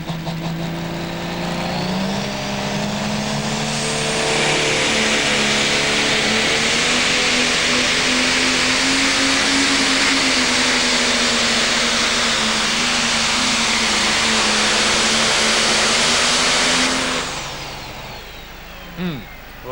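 A John Deere 7830 Pro Stock pulling tractor roars down the track at the 2008 NTPA Championship in Bowling Green, Ohio: a loud, sustained diesel bellow that swells and climbs in pitch, then cuts off near the end.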